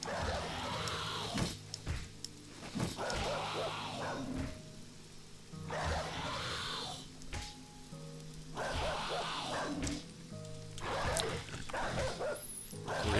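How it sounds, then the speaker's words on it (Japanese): Dogs fight zombies in the survival game 7 Days to Die, with repeated barks and growls arriving in bursts over a steady hum of game noise and ambience. "ゾンビと犬が戦ってるんですね"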